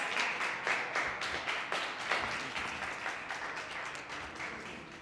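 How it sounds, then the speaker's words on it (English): A crowd at a community wellness and self-care event breaks into applause, many hands clapping in a brisk, fairly quiet patter that swells briefly and then tapers off. "Let's give a round of applause for Dr. Tola"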